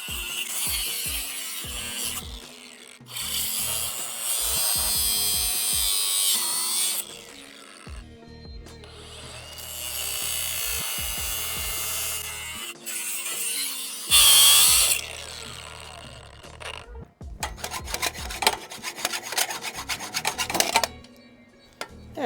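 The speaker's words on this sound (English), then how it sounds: "I'm gonna cut right behind the battery box" An angle grinder cuts through the steel frame of a Polaris Sportsman 500 ATV just behind the battery box, in loud harsh bursts of several seconds separated by short pauses, with a final run of rapid rattling chatter.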